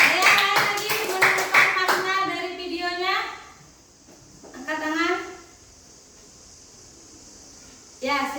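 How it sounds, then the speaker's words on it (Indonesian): A classroom of students claps for a classmate, a quick burst of close, sharp handclaps over the first few seconds, followed by a teacher speaking with pauses between phrases. "Ya, tepuk tangan untuk Gayatri"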